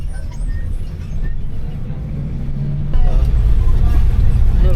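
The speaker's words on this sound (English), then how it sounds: "took a chicken bus to a very interesting place" Rumbling ride aboard a chicken bus near Cajamarca, a steady low engine drone and road noise that swells louder partway through, continuous and close.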